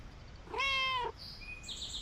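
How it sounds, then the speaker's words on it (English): A cat meows once in the video game Starsand Island, a clear, drawn-out harmonic meow lasting about half a second, followed by faint high game tones and chimes. "Oh, we have a kitty cat."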